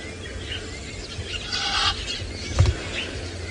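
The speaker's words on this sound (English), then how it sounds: "Egyptian geese are just way too loud and noisy for me." Egyptian geese call and squabble in a short noisy burst, with harsh honking peaking partway through, heard over quiet background on an early morning safari drive.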